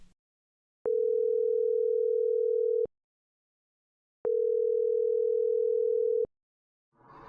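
A telephone rings out while calling a friend, giving two long, steady electronic ring tones of about two seconds each with silence between them, clear and loud, followed by a faint hint of a voice at the end.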